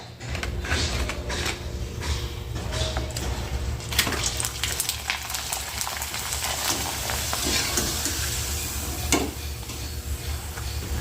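Ragi (finger millet) papad puffing up in hot oil, a steady dense sizzle with crackling bursts that runs on with no one speaking.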